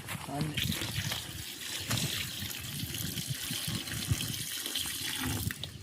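Water runs steadily from a tap into a pot for chicken biryani with a continuous splashing hiss, close by, under some kitchen clatter and faint voices.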